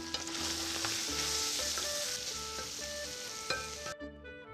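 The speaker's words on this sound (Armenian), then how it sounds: "շարունակում ենք խառնել" Quince and vegetables sizzle and fry in a pan while being stirred, a steady close crackle with occasional scrape accents and no talking, the frying cutting off near the end.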